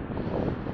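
Steady wind roars past the microphone beside a lake in Bariloche on a very windy day. The rumble is loud and continuous throughout, with no voices.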